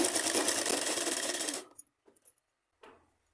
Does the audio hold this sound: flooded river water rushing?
no